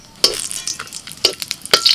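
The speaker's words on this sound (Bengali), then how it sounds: "এবার কড়ায় তেল দিয়েছি, তেলের মধ্যে এলাচ, দারচিনি," Whole cardamom pods, cinnamon and cloves fry in hot oil in a wok, with a bright crackling sizzle and three sharp bursts of stirring and spattering, close up and without talk.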